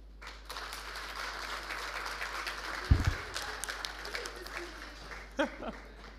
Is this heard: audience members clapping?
yes